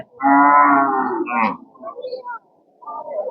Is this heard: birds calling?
no